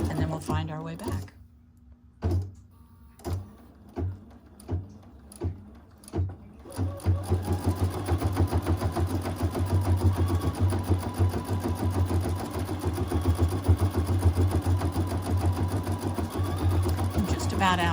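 Embroidery sewing machine stitching a design, starting with a series of separate thumping stitches and then settling into a steady, fast mechanical rattle that runs close and loud, with a voice talking briefly over it.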